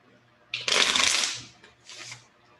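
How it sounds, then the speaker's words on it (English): A deck of tarot cards being shuffled by hand: one long, loud riffling burst followed by a shorter, softer second shuffle, close and alone with no talking. "I need to shuffle these"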